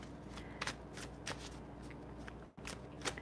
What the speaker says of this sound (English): let me go ahead and shuffle these cards here